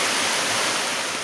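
Heavy rain pours down outside a house in a dense, steady hiss, loud and continuous with no voices over it.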